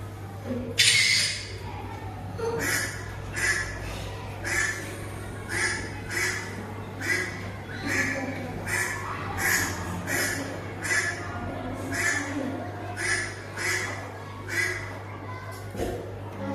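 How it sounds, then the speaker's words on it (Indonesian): Repeated duck quacks, a steady series of short calls roughly every second, fairly close and loud over a constant low hum, with no talking. "bebek"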